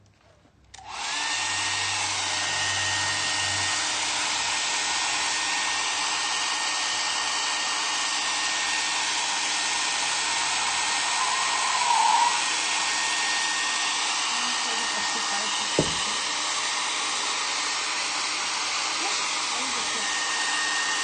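A hair dryer blowing steadily on a glued napkin decoupage piece of MDF, switching on after a second and running loud and continuous for the rest of the clip, with a brief knock near the end.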